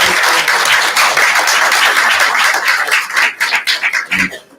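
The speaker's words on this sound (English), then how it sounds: "please give a round of applause for Christine." Dense, loud audience applause for a retiring library staff member at a board meeting fills the room, then thins into scattered individual claps before fading out.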